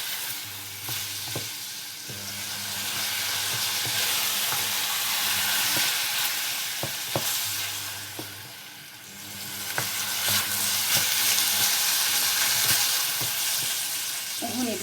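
Onion and minced meat sizzle steadily in a hot pan for spaghetti sauce, a loud continuous frying hiss with occasional clinks of a utensil stirring, heard close and with no voices.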